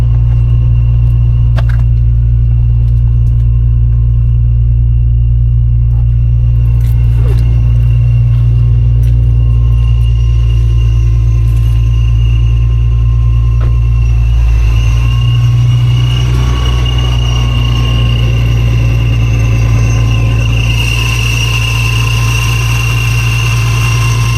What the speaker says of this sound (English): Can y'all hear that supercharger though?